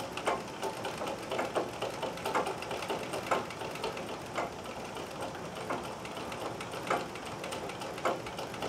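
Necchi Nora sewing machine stitching steadily during free-motion thread painting, a fairly quiet, continuous mechanical whir with faint rhythmic ticks from the mechanism, close by, with no talking.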